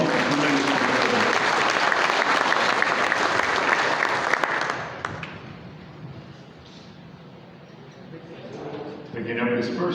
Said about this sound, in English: Give this guy a big round of applause.